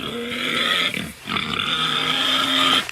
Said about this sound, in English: Okay, Julie, I got some audio here of pigs eating slop.